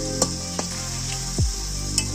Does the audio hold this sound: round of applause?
no